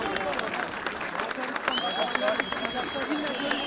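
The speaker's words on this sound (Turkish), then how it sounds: "Onun merdivenlerden inmesiyle alkışlar yükseldi" An airport crowd applauds as former president Abdullah Gül descends the aircraft stairs, steady clapping mixed with shouts and voices close by.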